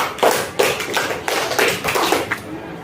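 Students in a classroom clap together in a dense burst of rapid, uneven hand claps, fairly close and sustained for a few seconds with no talk over it.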